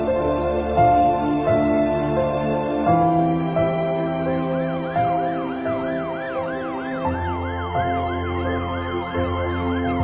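An ambulance siren wails loud and near, switching between a steady two-tone pattern and a rapid rising-and-falling yelp that runs on without pause.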